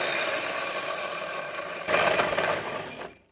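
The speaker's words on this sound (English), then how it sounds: "I'm going to use the Aferiy 1200 watt portable power station to get my big drill going and get through this concrete." A big corded drill bores through a thin piece of concrete, run without hammer mode from an Aferiy 1200 watt portable power station; a steady, fairly loud whirring grind that gets harsher partway through, then stops abruptly.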